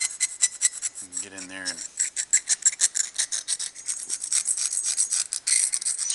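A metal dental pick scraping grime out of a diesel turbocharger housing makes repeated short raspy strokes, close and steady, with a brief spoken remark partway through.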